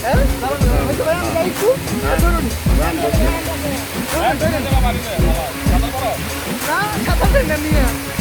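Ham Ham waterfall in Sylhet, a steady loud rush of falling water filling the whole clip, with people talking over it throughout.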